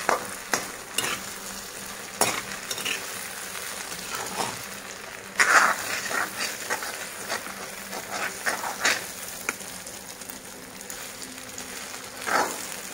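Fish roe frying in fish oil, a steady close sizzle and crackle broken by repeated scraping stirs of the pan, with a brief louder spatter partway through.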